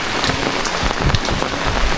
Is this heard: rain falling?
yes